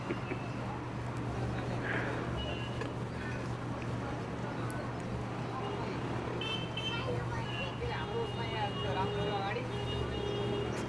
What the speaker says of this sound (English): and you can hear all the scooters and motorcycles in the background